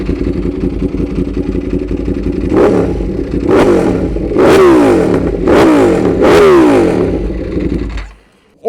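A Ducati motorcycle engine revs loudly up close in several sharp bursts over a steady idle, then cuts off abruptly near the end.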